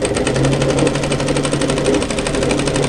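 Sewing machine running steadily at close range, stitching a second parallel line along the fold side of a tee shirt, with a fast, even needle rhythm throughout.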